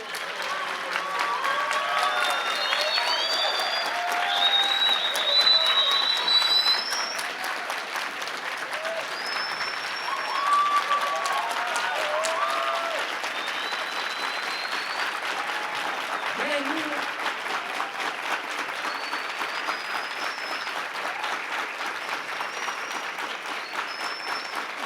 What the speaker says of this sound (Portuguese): muito obrigada por esses aplausos